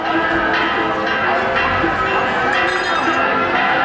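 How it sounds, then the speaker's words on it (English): Church bells ring at a Sunday country village fair in Peru, a dense continuous clanging peal that fills the whole stretch, loud and close, with crowd murmur beneath. "Church bells ringing."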